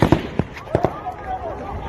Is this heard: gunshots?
yes